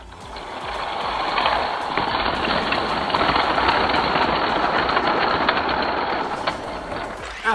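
Hot Wheels hypercar toy cars, including a Ferrari FXX and a Lamborghini Sesto Elemento, race down a plastic street track, giving a steady, loud rolling rumble with rapid clattering that continues almost the entire time.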